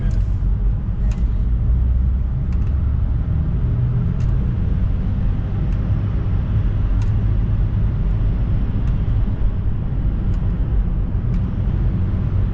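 A self-driving car cruises through a tunnel, a steady loud low road-and-engine rumble that fills the space without pause, with faint ticks now and then.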